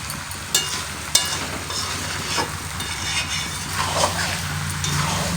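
Mutton sautés slowly in a pan for a Bengali curry, giving a close, continuous low sizzle broken by a few sharp clicks and scrapes of the stirring spoon, with no talking.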